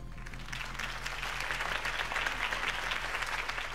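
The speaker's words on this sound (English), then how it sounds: "could have heard that applause" In Batman: The Telltale Series, a large crowd applauds after Harvey Dent's campaign speech, a sustained, even wash of clapping that holds steady throughout at moderate loudness.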